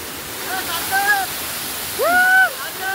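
A waterfall at Panvel in Navi Mumbai roars as a steady broad rush of falling water, while voices rise briefly above the noise in two short bursts.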